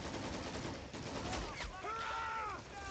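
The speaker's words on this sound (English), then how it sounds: "Now there's an MG in cover here" Machine gun fire crackles in a World War II strategy game match, thin and in the background among other battle noise.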